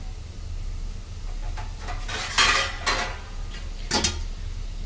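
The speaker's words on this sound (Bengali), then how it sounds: "এরকম একটা প্লেট দিয়ে ঢাকা দেবো" A plate set over a pan as a cover while making pithe, with a few clinking ceramic and metal knocks over a low hum in a quiet kitchen.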